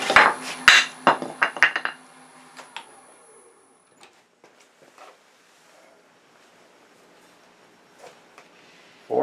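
A 3/8 inch swept-back bowl gouge cuts inside a cherry burl vase spinning on a lathe, giving a cluster of loud, irregular scraping and knocking bursts over the first two seconds. Near silence follows, broken by a few faint taps.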